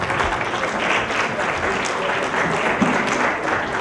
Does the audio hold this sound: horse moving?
no